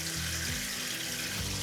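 Water gushing from a newly connected tap in a low-carbon bathroom, a loud steady splashing rush heard up close and continuously, with no talking.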